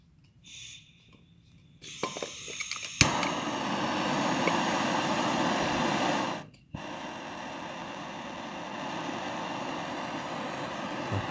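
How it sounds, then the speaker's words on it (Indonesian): Torch flame roaring steadily while heating metal to make a valve part for a hydraulic ram pump, lighting with a click and burst before a loud continuous rushing hiss that drops slightly partway through, close up. "Kita nyalakan dulu apinya."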